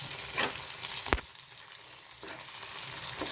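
Tomato paste, mint and coriander frying in a pan for chicken gravy curry, with a steady sizzle broken by one sharp stirring scrape near the start and softer stirring touches later.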